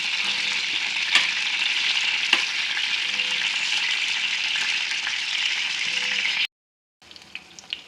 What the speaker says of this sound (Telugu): వంకాయలను అటు ఇటు తిప్పుకుంటూ మగ్గించుకోవాలి